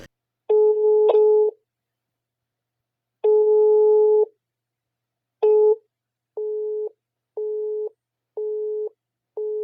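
A telephone call goes unanswered: a few long ringback tones with pauses give way to a steady series of short, evenly spaced busy-signal beeps, clear and isolated with no talking.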